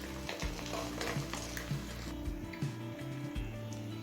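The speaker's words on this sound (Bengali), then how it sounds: "উল্টে পাল্টে ডিমের 2 পিঠ ভেজে নিয়েছি।" Eggs fry in hot oil in a kadai after being flipped to cook both sides. A dense, continuous sizzle with occasional crackles fills the space, close and fairly loud, with no voices.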